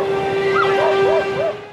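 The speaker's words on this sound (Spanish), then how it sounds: "oyeron unos distantes ladridos de perros" Dogs barking and yipping in the distance on a remote Arctic island, a few short rising-and-falling calls in quick succession over a steady background tone.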